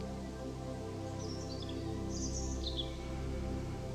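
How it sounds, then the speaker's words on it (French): A few birds chirp outdoors in two short bursts of high twittering, faint and distant above a steady low droning hum. "Et en même temps, vous pouvez entendre les oiseaux."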